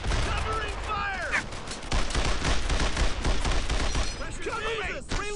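Dense gunfire in the World War II shooter Brothers In Arms: Earned In Blood, with loud sustained bursts and rattling volleys close by, while soldiers shout orders over the shooting.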